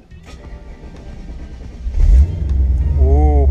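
An LT1 engine swapped into a Chevrolet C10 truck cranks and fires up, a low rumble building quickly into a loud, close idle that holds steady.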